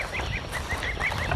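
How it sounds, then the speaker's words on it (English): A flock of geese honks over and over in a continuous, overlapping chorus, heard from a moderate distance. "How you geese doing, huh? How you doing?"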